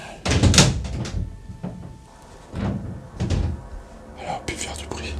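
A door in an old building explored during a paranormal investigation thuds and creaks several times at irregular intervals, fairly close, with hushed voices murmuring between the knocks.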